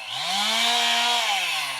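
A chainsaw engine drones steadily nearby, its pitch rising slightly then easing down, loud and continuous.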